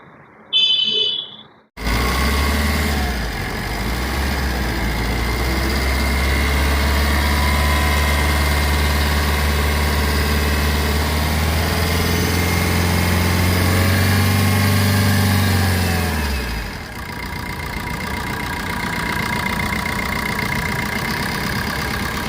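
A car engine cranks and catches, then settles into a steady, loud idle with a low droning hum, cutting off abruptly near the end.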